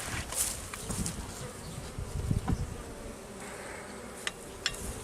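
Honeybees buzz in a steady, close drone while a weak hive is opened for inspection outdoors, with brief clicks and knocks of frames and handling over the hum.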